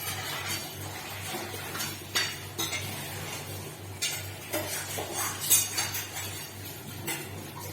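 Rice stirred and fried in oil in a pan, with a metal spoon clinking and scraping against the vessel in irregular bursts over a faint steady hum, close by and moderately loud.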